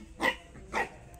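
A multi-purpose hunting dog gives two short, separate barks about half a second apart at moderate distance, with quiet background between them.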